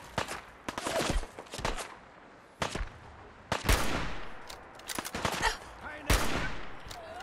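Gunfire in Fallout 4 comes in sharp, loud bursts and single shots, clustered in quick volleys separated by short pauses, with faint game ambience between the shots.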